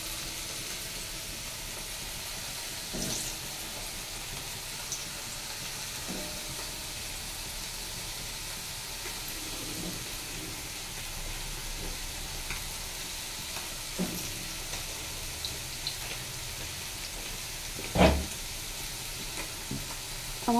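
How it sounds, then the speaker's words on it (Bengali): Potato pieces sizzle and fry in a hot wok over a high gas flame, a steady crackling hiss running throughout with occasional scrapes and stirring knocks from a spatula. "এই কড়াইতে আমি দিয়ে দিচ্ছি আলু।"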